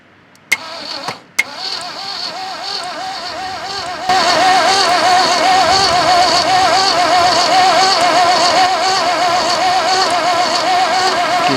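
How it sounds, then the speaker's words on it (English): Engine of a Ford truck abandoned for 39 years being turned over: a couple of sharp clicks, then after a few seconds a steady, loud, rhythmic cranking drone that continues unbroken to the end. "We'll go ahead and turn the motor over."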